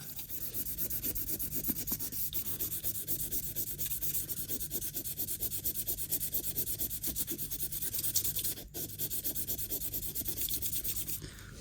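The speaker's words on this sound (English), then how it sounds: "Let's give that a quick wipe off." A rag rubs briskly and continuously over the WD-40-coated sprocket of a 51-year-old Honda moped, a close, dense scrubbing hiss in rapid strokes with no talk.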